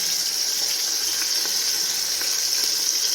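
Water poured into a pan of leftover chicken masala on a low flame, making a steady, close hissing gush that holds even and unbroken throughout, with no voices.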